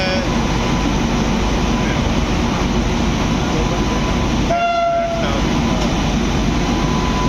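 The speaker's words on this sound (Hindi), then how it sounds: "कोई पैसेंजर ट्रेन है जो कि मेरे सामने जा रही है।" Passenger train rolling past up close on an Indian rail line, a steady loud rumble and clatter of wheels filling the whole stretch, with a short tonal whine around the middle.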